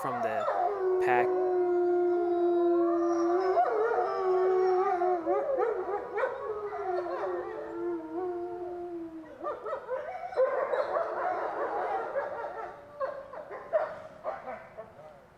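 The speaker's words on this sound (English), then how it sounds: "as you can see, we did get some howling footage finally from the pack" A wolf pack howls in long, overlapping wavering tones that rise and fall together for about fifteen seconds. The howls are fairly distant and steady, then break into shorter yips and whimpers toward the end, with a faint voice under them.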